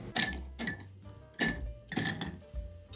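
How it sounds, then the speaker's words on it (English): Ice cubes clink and clatter into a cocktail mixing glass in four or five distinct bright bursts, close and fairly quiet, with no talking. "Fill the mixing glass with ice"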